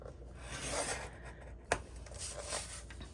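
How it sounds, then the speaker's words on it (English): Paper scored for a mini album pocket, a soft, close rasping scrape of a tool drawn along the sheet in quiet strokes with one sharper click. "we are going to score at 1/2 inch on the left, the bottom, and the right."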